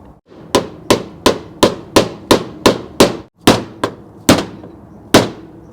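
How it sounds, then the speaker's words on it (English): A small bushing is hammered into a bore in a 47RH automatic transmission during a rebuild: around a dozen loud, ringing metallic blows close by, mostly steady, with a brief pause and slower final strikes. "we're going to put it in this hole and drive it down about 1 inch"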